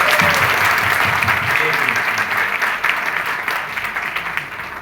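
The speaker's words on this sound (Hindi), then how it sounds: "ताली भी कैसी बजनी चाहिए" An audience applauds loudly at a business gathering, a dense, steady wash of clapping that stays close and full for nearly five seconds before easing slightly toward the end, with some speech mixed in.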